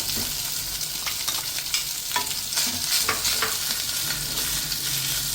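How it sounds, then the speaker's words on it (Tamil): Rice, added with salt to curry, is stirred and fried in a pan. The close, steady sizzle is broken by repeated scraping strokes of the spoon and runs alone without talk. "கறி இருக்கு முன்னாடியே ரைஸ் போட்டு நல்லா இலக்கி கொடுத்துருங்க"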